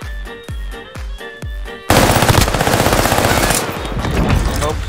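Call of Duty gunfire: several spaced, punchy shots followed by a dense, loud burst of rapid automatic fire that continues to the end.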